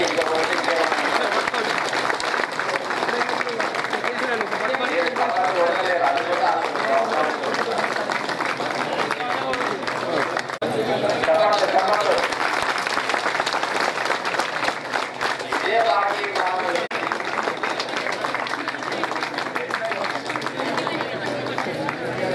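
Loud, sustained applause and crowd noise fill a family ceremony where gifts of a gold chain and ring are presented, with a dense wash of clapping and murmuring voices throughout.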